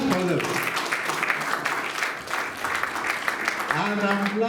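A lecture audience applauds graduates with steady, dense clapping that fills the hall for several seconds. A speaker's voice is audible at the start and again at the end over the clapping.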